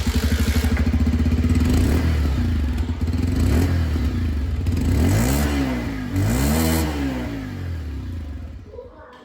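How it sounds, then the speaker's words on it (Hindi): A Bajaj Pulsar 125 Neon motorcycle idles with a steady, loud exhaust burble close by, then is blipped twice in quick succession, the revs rising and falling before it settles back. "अब दोस्तों दोनों ही बाइक की यहाँ पर जो एग्जॉस्ट साउंड है ना वो भी आप लोग यहाँ पर सुन लीजिए।"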